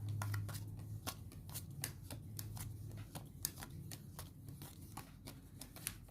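Playing cards dealt six to each of two players in a Rainbow 7 card game, a quick run of soft snapping flicks at an uneven pace, quiet and close over a low background hum.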